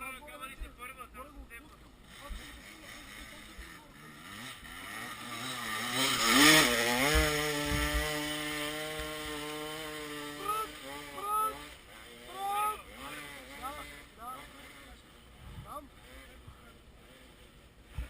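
A motorcycle engine revs hard in second gear, its whine climbing to a loud peak and then sliding back down, followed by shorter blips of throttle. People talk and call out over the engine.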